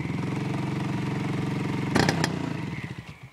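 A T 240 motorcycle engine, not yet tuned, runs steadily close by with a throbbing idle, then a brief clattery burst of revving near the end before it settles again.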